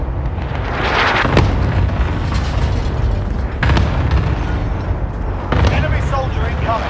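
Cluster strike explosions in Call of Duty Warzone roll through as a continuous rumbling barrage with three sharper booming bursts, loud and close, with game voice callouts mixed in.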